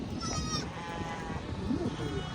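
Goats bleat nearby over a busy, murmuring background at a desert goat auction, with a wavering cry near the start and quieter calls after.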